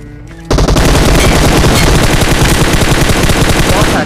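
Rapid automatic gunfire bursts out loudly in a mobile shooter game after a short quieter lead-in, then continues as dense, sustained shots to the end.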